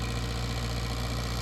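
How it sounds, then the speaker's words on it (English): A tractor engine chugs steadily on a homestead, a close, even low-pitched rumble with a faint knocking pulse and no talk. "how to drive a tractor"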